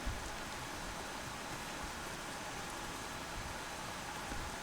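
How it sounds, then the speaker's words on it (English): Steady rain in the Atlas survival video game hisses as a constant, even wash of dense drops, with no voices over it. "Oh, rain."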